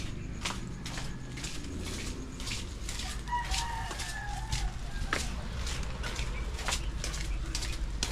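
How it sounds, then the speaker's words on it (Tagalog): Roosters crow in the distance amid soft outdoor ambience, with scattered clucks and faint voices in the background. "Boyet wala pa rin yung tulog diyan sa kanyang mga alagang manok."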